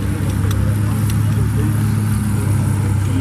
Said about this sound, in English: Easing it down now. You can hear the throttle reducing, holding it steady.